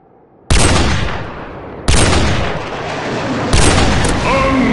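A Call of Duty 4 friendly airstrike lands as three loud, sharp explosions spaced over a few seconds. Each blast booms suddenly and then rolls off into a lingering rumble, with brief electronic game tones near the end.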